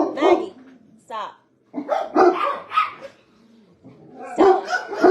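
Several dogs barking outdoors in bursts, loud and close with short pauses, with a person's voice mixed in among the barks.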